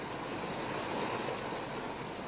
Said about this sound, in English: We've got a waterfall over there.